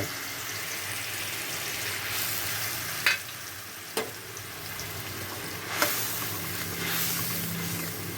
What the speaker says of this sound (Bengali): এটাকে এখন একটু কষিয়ে নিতে হবে